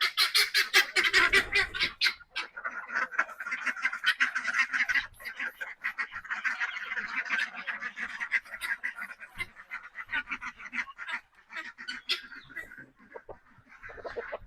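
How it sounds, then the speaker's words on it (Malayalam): Ducks and chickens being let out of their coop make a loud burst of honking quacks at first, then keep up a dense, continuous chorus of quacking and clucking nearby, with no talk. "അപ്പോൾ നമുക്കിനി നമ്മുടെ താറാവുകളെയും കോഴികളും കൂടെ ഒന്ന് വിടാം കേട്ടോ."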